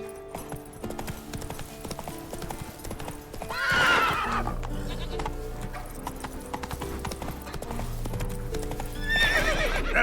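Roach the horse galloping in The Witcher 3, with rapid hoofbeats pounding steadily up close and two loud neighs cutting through, one near the start and one near the end.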